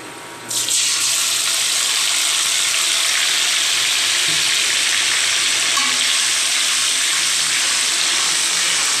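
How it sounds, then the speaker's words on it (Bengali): Onion and garlic paste dropped into hot oil, bursting into a loud, close, continuous sizzle that holds steady for several seconds with no talking. "পেঁয়াজ আর রসুন একসাথে বেটে রেখেছিলাম দিয়ে দিচ্ছি"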